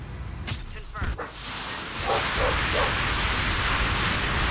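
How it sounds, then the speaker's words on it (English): Dogs bark and yip excitedly indoors in a few quick bursts, with some whimpering, followed by a steadier background din and a voice talking over it. "something has the dogs excited."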